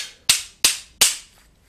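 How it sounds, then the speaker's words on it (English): Three sharp, loud wooden clicks from rhythm sticks struck together, evenly spaced about a third of a second apart, each with a quick decay and nothing else around them. "I've got sticks to bang together"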